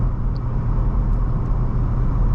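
A car's steady engine and road rumble while driving on back roads, a low continuous drone at constant volume with no talk heard.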